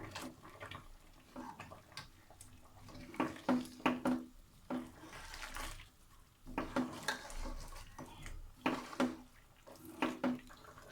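A spoon stirs mutton korma in a pot, giving soft, close scraping and clinking strokes in uneven bursts with brief quiet gaps.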